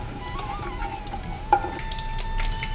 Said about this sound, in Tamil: கடுகு பொரியட்டும்.